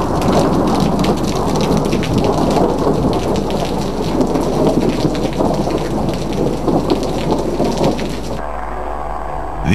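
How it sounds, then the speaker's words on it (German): Heavy pre-monsoon rain pours steadily in Lukla during a strong thunderstorm, with dense rumbling thunder throughout; the downpour stays loud and continuous before thinning abruptly near the end. "Es war schon ein starkes Gewitter."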